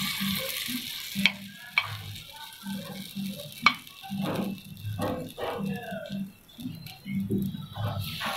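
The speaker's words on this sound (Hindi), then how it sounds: "देखिए अब हम इसमें हमारे बैटर डालते जाएंगे" Rawa appam batter hissing and sizzling as it is poured into a hot appe pan, a steady frying crackle with a few sharp clinks of utensils, fairly close and without talk.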